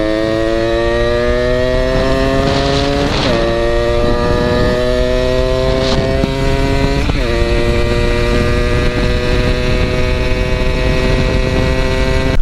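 A rare 1982 Honda MB5 motorcycle rides around the block, its small engine buzzing loudly and steadily, with pitch dropping and rising sharply as it shifts gears a few times.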